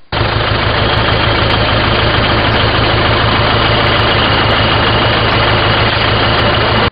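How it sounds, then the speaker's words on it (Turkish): A vehicle engine idles steadily during a roadside exhaust emission inspection, a loud, constant low rumble with a droning mid-range hum that holds unchanged from start to finish, with no speech. "İki saat süren denetimlerde 20 aracın egzoz gazı ölçümü yapıldı."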